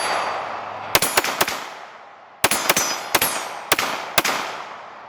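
A CZ Shadow 2 pistol fires in two quick bursts, each of three or four sharp, loud shots, with a pause between the strings and each report fading into a short ringing tail from the metal target.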